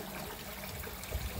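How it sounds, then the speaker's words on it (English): Nutrient-rich water flowing down the distribution pipe of a home aquaponics system, a soft, continuous trickle and gurgle at low level, with a few slightly louder low splashes near the end and no talk. "nutrient-rich water will go down the water distribution pipe"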